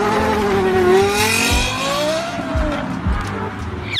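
A Toyota with a Yamaha-tuned V10, one of only 500 built, revs loudly, its engine note rising and falling in smooth sweeps with a few sharper thumps toward the end.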